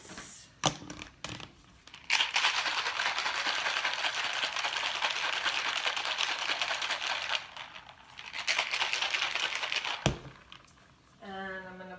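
A spicy breakfast drink spiked with Cholula hot sauce is shaken hard in two long bursts of close, steady rattling and sloshing, separated by a brief pause, with no talking.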